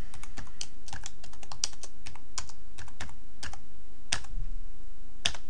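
Computer keyboard typing a place and date into a letter in an office program, quick irregular bursts of crisp key clicks close up, with short pauses between words and no talking.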